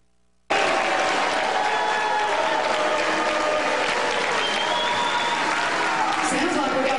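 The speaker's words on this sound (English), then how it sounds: "the party faithful booed and screamed at the state's Republican governor, Mary Fallin" A party convention crowd booing and screaming at a Republican governor, a loud, dense roar of many voices and noise that starts abruptly and holds steady throughout.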